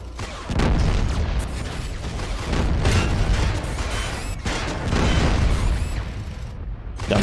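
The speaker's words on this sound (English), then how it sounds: "I'm extremely lucky that those rockets don't seem to be able to hit us through the window." Rockets slam and explode near a window in the Fallout video game, sending loud, booming blasts one after another in heavy bursts with rumbling debris between them.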